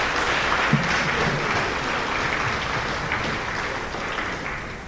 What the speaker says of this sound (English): give them another round of applause for a great job